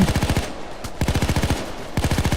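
Rapid automatic gunfire in the video game Payday 2, three loud close bursts of evenly spaced shots separated by short gaps, with no talking.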